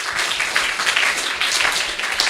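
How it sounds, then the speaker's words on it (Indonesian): A studio audience gives lively applause to the head of a regional office during a Banyuwangi television dialogue show, a dense, even wash of many hands clapping that holds steady throughout. "Tepuk tangan yang meriah untuk Pak Kepala Kantor Kemenak."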